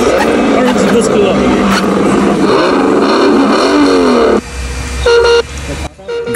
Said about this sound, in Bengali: গাড়িগুলো যখন ফুল স্পিডে ছুটে তখন যে ইঞ্জিনের র্যাভিং আর টায়ারের ক্রিচিং সাউন্ড হয়